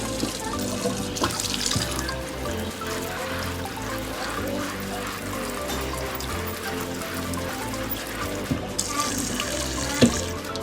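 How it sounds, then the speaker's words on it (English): Cold tap water runs steadily over boiled potatoes in a colander in a home kitchen, a continuous splashing wash with brief brighter gushes near the start and end, heard close. "And we're gonna shock them with some cold water."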